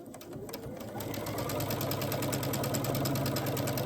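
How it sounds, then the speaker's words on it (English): A sewing machine stitches quilt fabric pieces together, a steady close mechanical whir with rapid rhythmic needle clatter that speeds up and holds at a constant rate. "Flip them on top of each other. And sew down that side."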